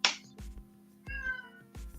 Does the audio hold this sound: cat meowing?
yes